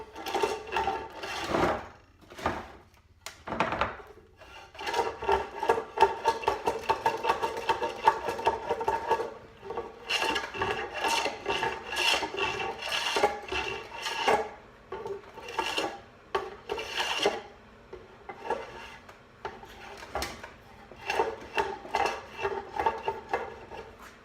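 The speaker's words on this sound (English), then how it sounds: "just take one of my hand things, skim off the glue" Hand scraper skimming dried glue off a large end-grain wooden cutting board, with repeated close, rhythmic scraping strokes and short pauses between passes.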